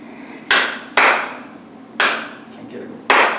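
Four sharp, loud hand claps spaced irregularly at close range in a quiet room, each a crisp burst with a short ringing tail.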